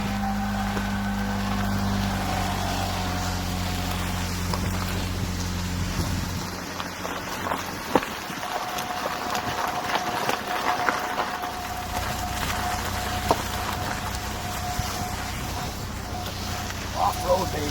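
An RC off-road vehicle's engine runs at a loud, steady pitch with a droning hum, then turns into a rougher, broadband rumble that carries on to the end.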